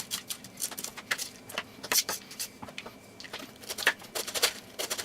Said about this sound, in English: just get in there and cut up your cabbage